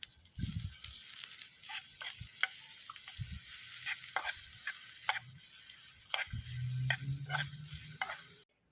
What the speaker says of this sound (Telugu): ఇది క్రిస్మస్ క్యారెట్ ఇలా లైట్గా వేయించుకొని